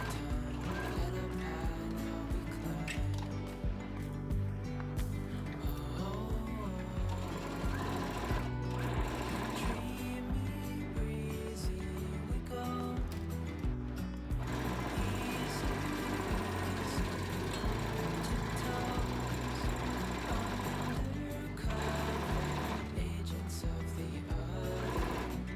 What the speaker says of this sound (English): Then top stitch that edge. Again, I'm using a straight stitch with the white thread